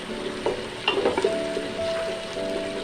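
Pickle is stirred into beef pulao frying in a pot, a loud close sizzle with a few clattering spoon scrapes and bumps over the steady hiss.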